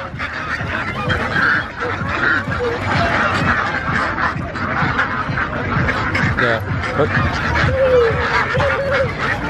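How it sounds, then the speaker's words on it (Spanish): A flock of ducks honk and quack continuously nearby, overlapping calls forming a noisy chorus with some voices in the background. "Miren esta cantidad de patos."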